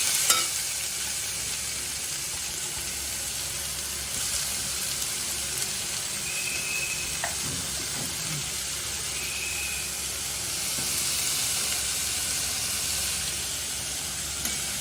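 Chopped onions sautéing in a pan for bitter gourd kuzhambu, a continuous even sizzle with occasional faint stirring scrapes and a couple of brief soft tones, no talking.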